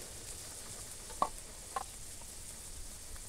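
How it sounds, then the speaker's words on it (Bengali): Onions and prawns fry in hot oil in a village kitchen, producing a faint, even sizzle with a couple of soft clinks from stirring. "পেঁয়াজের সাথে আবার চিংড়ি মাছও তেলে নেব"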